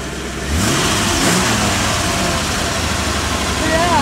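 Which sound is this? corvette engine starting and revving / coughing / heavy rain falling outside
corvette engine starting and revving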